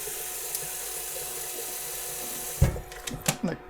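Tap water runs into a pot being filled for boiling pasta while cooking orecchiette all'arrabbiata, a steady close rush of flow that breaks into a few louder splashes and clunks near the end.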